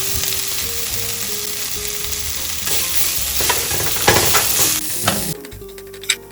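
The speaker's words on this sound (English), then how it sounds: "Let it saute for 2 minutes more." Ginger garlic paste sautés in a pan with clove, a steady broadband sizzle running throughout, broken by scraping stir strokes and a couple of sharper clanks near the end; no voices.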